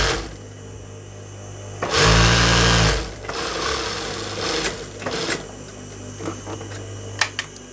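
A sewing machine stitching palazzo pants gives one loud, steady whirring burst of about a second, then fabric handling and faint clicks follow in a quiet room.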